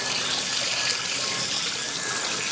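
Steady, loud rush of tap water pouring over whole dried corn in a colander in a kitchen, a continuous even splashing hiss with no talking.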